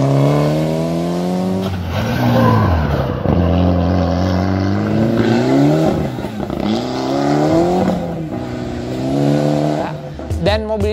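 A Mitsubishi Lancer Evolution IV Ralliart engine rises and falls through repeated loud revs, its pitch sweeping up and down steadily close by, and a voice speaks over it at times.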